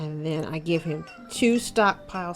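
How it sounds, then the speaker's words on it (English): A house cat meows several times, loud and close, its drawn-out cries overlapping a voice talking through a building-game session. "I'm sorry about the cat meowing."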